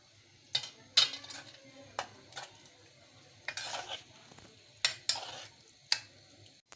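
Two tablespoons of ghee are stirred in a cooking pan with a metal spoon, giving a series of quick, close scraping strokes and clinks separated by short pauses over a faint sizzle.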